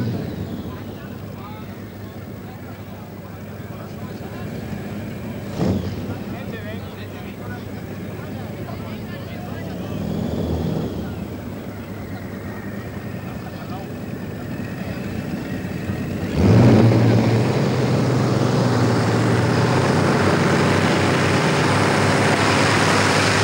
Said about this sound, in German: Drei Allison-Flugzeugmotoren, die mit Alkohol befeuert werden, verleihen über 6000 PS.